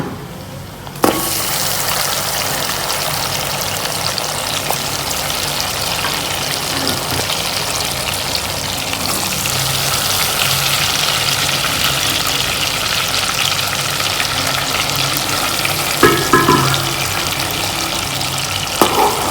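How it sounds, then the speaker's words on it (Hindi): Mutton frying in ghee with melted khoya gives a loud, continuous hissing sizzle that swells slightly midway, with a couple of brief clinks of a utensil near the end; no voices. "अब मैं मटन को अच्छी तरह फ्राई कर लूँगी।"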